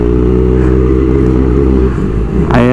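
A Kawasaki ZX25R motorcycle engine runs loud and close, a steady high-pitched inline-four drone with a brief dip near the end before it picks back up.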